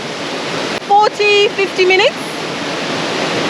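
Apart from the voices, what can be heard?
waterfall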